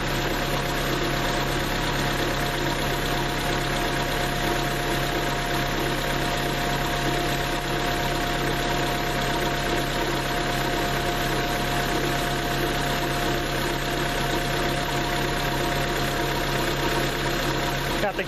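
A 2000 Honda Civic engine idles with the thermostat open, a steady close mechanical rumble with a constant hum that runs unchanged throughout.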